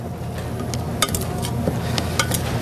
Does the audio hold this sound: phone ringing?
no